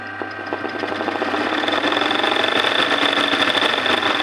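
An embroidery machine sews a leap stitch during a machine embroidery class, giving a continuous close mechanical whir with a rapid, steady needle pulse that grows slightly louder.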